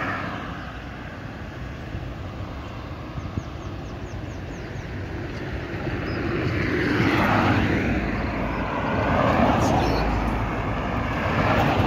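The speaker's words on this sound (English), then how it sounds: "So this is the Grantley Adams International Airport." A fixed-wing aircraft engine drones steadily at Grantley Adams International Airport in Barbados, swelling louder in the second half against a constant background rumble.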